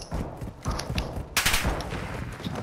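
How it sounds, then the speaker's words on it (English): Rapid bursts of automatic gunfire in Call of Duty Modern Warfare II multiplayer, cracking loud and close in quick repeated volleys, with a sharper, heavier burst midway. "Taking enemy fire."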